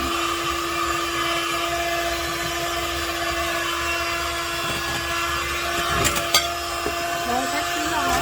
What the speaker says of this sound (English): I'm going to use my old handy dandy hand mixer.